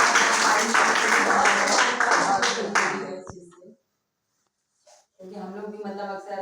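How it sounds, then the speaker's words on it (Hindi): Schoolchildren at a primary school applaud together in a loud burst of clapping lasting a few seconds, which stops abruptly. After a short silence, a voice begins speaking. "इसके लिए ताली बजा सकते हैं"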